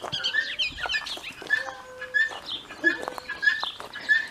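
Chickens in a New Mexico desert yard cluck and chirp close by in short, busy bursts, with several birds calling over one another throughout, no talking.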